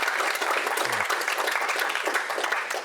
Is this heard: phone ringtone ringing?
no